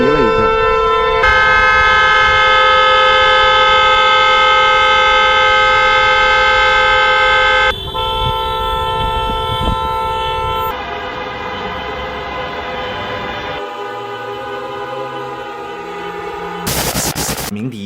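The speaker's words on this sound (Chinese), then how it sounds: "有人鸣笛了已经。" Vehicle horns and air-raid sirens sound together for China's three minutes of national mourning, a continuous, loud, overlapping blare that shifts in pitch and layers over the whole stretch.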